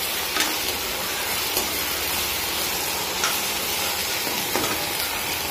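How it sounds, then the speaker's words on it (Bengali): Okra frying in a pan with turmeric and salt makes a continuous, even hiss and sizzle with a few faint clicks, heard close and alone without talk. "এবার ভিন্ডি ভাজা হচ্ছে, হলুদ লবণ দিয়ে দিয়েছি"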